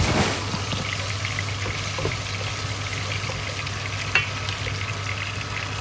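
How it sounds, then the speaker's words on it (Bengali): Garlic and onion fry in oil in a pan, a close, continuous sizzle with stirring scrapes and one sharper clatter partway through. "দিয়া আমার রসুন আর পেঁয়াজ রে বালা করিয়া লাড়াচাড়া করিয়া গলাইমু আগে।"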